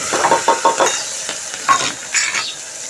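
Onion tipped into hot oil already seasoned with mustard seeds, cumin and green chillies, giving several short sizzling bursts with stirring in between, close and fairly loud, and no talk.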